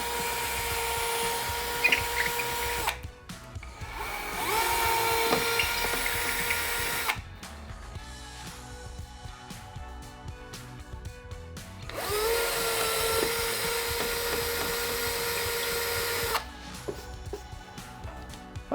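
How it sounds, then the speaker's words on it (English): A cordless drill with a masonry bit bores into a wall to fit roman blinds, whirring loudly in three sustained bursts separated by brief pauses, close up with no talking. "I've got my cordless drill all charged up and ready to go"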